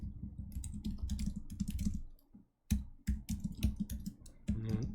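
Quick bursts of typing code on a computer keyboard, close and crisp, with a short pause before the clicking resumes in rapid runs.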